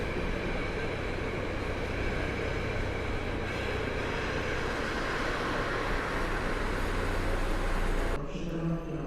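PKP train at Kraków Główny station, a steady loud rumble of rolling rail cars and locomotive running close by throughout, ending with a sudden drop in level near the end.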